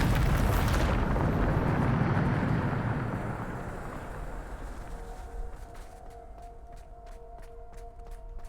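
Bombarda spell exploding in Hogwarts Legacy, a loud close boom bursting at the start, then a rumbling decay fading over several seconds, with light crackling and ringing tones trailing at the end.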